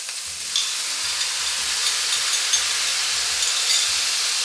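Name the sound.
tomatoes added to pork frying in pan, sizzling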